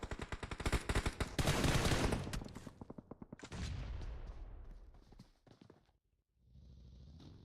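Rapid automatic gunfire rattles in fast, dense bursts during a battle royale video game match, loud at first, then broken into sparser shots and a short pause before softer firing resumes.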